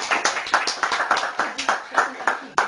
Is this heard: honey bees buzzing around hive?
no